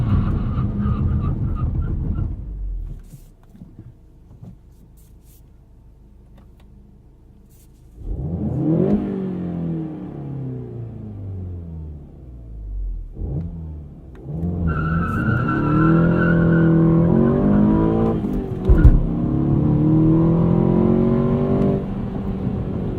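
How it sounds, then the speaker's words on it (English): A 2016 Volkswagen GTI SE with a six-speed manual revs and accelerates hard, the engine note rising through gear changes, then a 60-to-0 braking run follows with loud, close tire noise and engine sound in the cabin. "Let's do a 60 to 0 brake test here."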